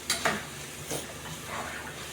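Pork belly sizzles in a frying pan while it is stirred, with a few scraping clinks of the utensil against the pan over a steady soft frying hiss.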